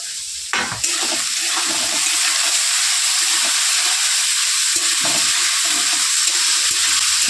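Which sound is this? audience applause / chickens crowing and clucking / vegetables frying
vegetables frying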